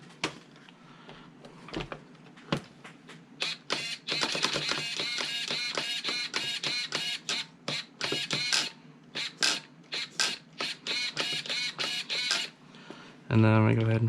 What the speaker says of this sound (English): there's our Spectrum servo installed with the stock servo horn and linkage and everything